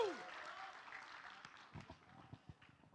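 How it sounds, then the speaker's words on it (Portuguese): Church congregation applauding as the evening's preacher is called up, a faint clapping wash that fades to scattered individual claps with some voices. "Palmas para Miguel!"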